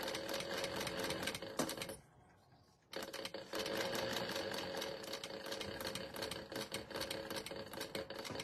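A sewing machine fitted with a brand new needle stitches in fast, even bursts of rattling clicks while chain sewing a cosmetic case, stopping for about a second before running steadily again, close and alone.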